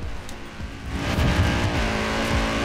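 An Audi driven in the racing game Forza Horizon 4, its engine droning steadily with tyre noise that grows louder and fuller partway through, heard alone without talk.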